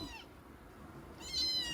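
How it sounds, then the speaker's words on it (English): A kitten gives a clear meow at the start and a second, louder meow near the end, close by with a quiet pause between them and no talk. "It's a cat."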